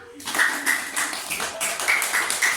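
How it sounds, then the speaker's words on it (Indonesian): Applause from a primary school class at the end of a lesson, busy overlapping claps with some voices mixed in, fairly close and sustained. "Tepuk tangan untuk kalian semua"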